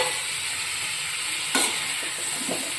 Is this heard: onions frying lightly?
yes